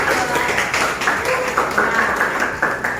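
Classroom students applaud their newly agreed class agreement, a dense, continuous patter of many hands clapping at full level under a teacher's voice and some chatter.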